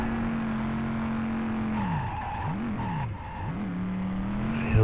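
A car drifting in the video game Driv3r, with a steady engine drone that breaks into wavering, squealing tire skids across several swerves, loud and close, with no talking.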